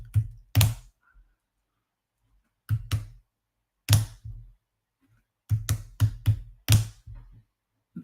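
Computer keyboard keys clack close up in short bursts, a few quick strokes at a time separated by silent pauses.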